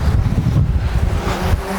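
Strong gusty wind buffets the microphone outdoors over grass during a storm, a loud continuous roar with low rumbling surges and no voices.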